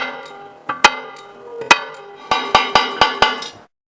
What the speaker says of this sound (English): Reduce the tapping force after opening the first section of the cut.